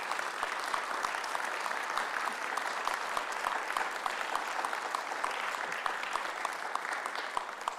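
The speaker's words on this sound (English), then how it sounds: "Can we give Kelly a big round of applause for coming tonight?" A live audience at an evening community conversation event applauds a speaker with steady, dense clapping that holds evenly throughout without pause.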